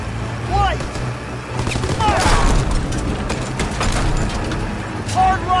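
Dense battlefield gunfire from the Operation Cobra mission in Call of Duty: WWII, with rapid volleys and machine-gun bursts crackling steadily throughout, loud and close, under shouted voices during a vehicle chase.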